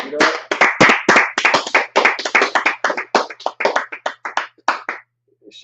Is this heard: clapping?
yes